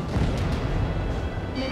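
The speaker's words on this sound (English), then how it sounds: "Missile away." A missile launches in the Ace Combat 7 flight game, a rushing, rumbling whoosh with a burst of thrust, heard loud and dense amid other combat noise.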